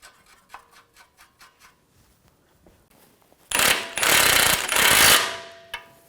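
Nut threaded onto a front forward lower control arm bolt on a 2006-2010 BMW 550i, light metallic ticks and taps first, then a loud burst of ratcheting or power-tool tightening lasting about two seconds, close by with no talk.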